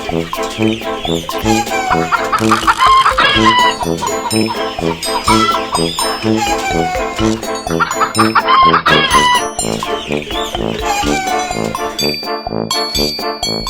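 A flock of black Australorp chickens clucking busily and loudly, close by, with roosters crowing now and then through a dense, continuous chorus of farmyard poultry.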